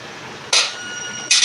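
Two sharp metallic snapping clanks of a chain cutter cutting a chain in the video game Granny, about a second apart, stand out over a low steady hum with no voices.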